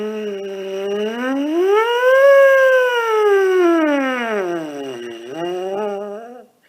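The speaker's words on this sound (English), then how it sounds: "One last time on the sirens. This one will be your biggest siren yet." A siren exercise is buzzed on a low brass mouthpiece as one long, loud tone. The pitch glides up, holds, dips, then rises slightly before cutting off.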